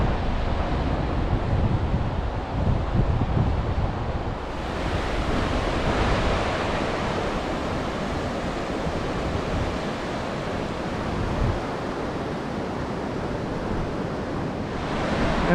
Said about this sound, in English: This is the beach at Skeens Creek.